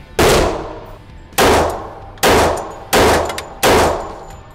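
An RIA BBR 3.10 pistol with a ported barrel fires five loud, sharp shots at a steady pace roughly a second apart, each ringing out and fading before the next.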